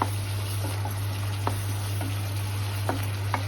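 A tomato-onion paste cooks down in a pan while being stirred, giving a steady, soft sizzle close by with a few light spoon clicks against the pan.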